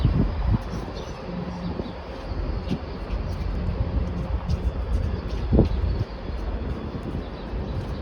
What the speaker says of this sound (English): There's a locomotive and, ooh, kind of smoky at the top, 635.